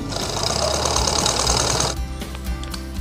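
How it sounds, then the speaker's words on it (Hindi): Sewing machine stitching the neck band of a plain blouse: a rapid, steady mechanical chatter up close for about two seconds, then it stops abruptly, leaving a few soft handling noises. "सेम इसी तरीके से हमें पूरे गले की पट्टी पे सिलाई लगा देनी है।"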